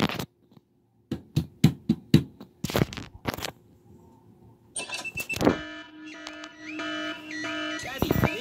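A string of loud electronic beeps pulses in bursts, then a sustained buzzing house alarm blares with shifting tones; a voice is faintly heard beneath.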